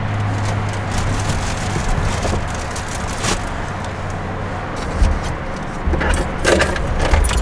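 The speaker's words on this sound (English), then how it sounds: "I'm gonna turn the car on." Keys jangle as a Subaru Crosstrek is started, with a low engine hum and a steady tone running underneath and a few sharp clinks and rattles close by.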